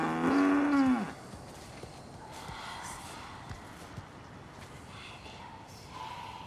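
A cow gives one loud, close moo at the start, falling in pitch, followed by quiet rustling ambience and faint distant sounds.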